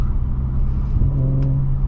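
Steady engine and exhaust drone from a 2018 Audi RS5 Coupe cruising on the road, a constant low rumble with a slight rise in tone, heard from inside the cabin without talk.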